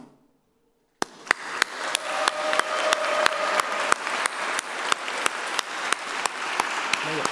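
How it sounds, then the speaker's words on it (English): An audience applauds at a postgraduate graduation ceremony: after a second of silence, dense steady clapping starts and holds throughout, with sharp individual claps standing out at intervals. "give a massive clap and cheer and applause"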